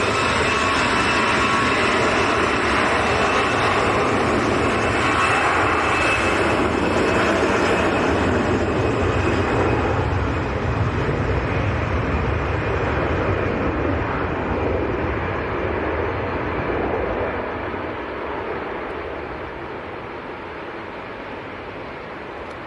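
A SunExpress airliner in a special livery on short final into Manchester on a windy day, arriving from Antalya: a loud, steady broadband engine roar close by that slowly fades over about twenty seconds, with no talk.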